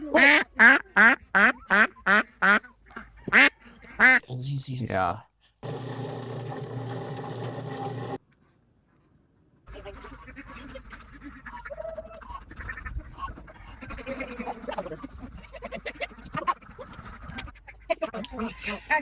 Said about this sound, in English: And you can hear the drakes. They're raspy. They don't have that big loud call.